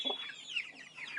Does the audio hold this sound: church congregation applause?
no